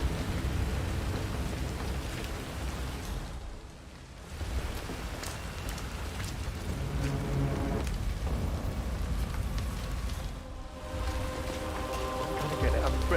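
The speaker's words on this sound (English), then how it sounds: "I'm never going out in the rain again." In the video game Hitman III, rain falls steadily onto surfaces as a dense, even hiss that briefly dips twice and carries faint distant rumbles, with no talking.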